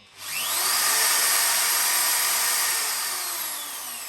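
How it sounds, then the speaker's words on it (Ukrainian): A Dnipro-M electric drill, about 350 W, spins up quickly and runs at a high, steady whine, easing slightly in pitch and volume toward the end. "дриль або шуруповерт Дніпро е, потужністю приблизно 350 Вт"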